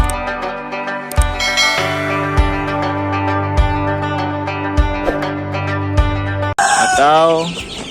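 Chickens in a breeding coop cluck steadily nearby, and a rooster lets out a loud crow near the end.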